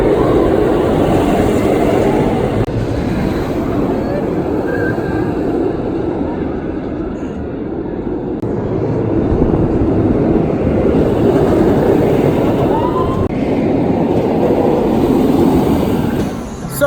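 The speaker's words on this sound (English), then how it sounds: "Let's get on this awesomely fun coaster." Riding the West Coast Racers roller coaster at Six Flags on a very windy day brings a continuous rumbling roar from the track along with wind buffeting, and a few faint squeals ride on top.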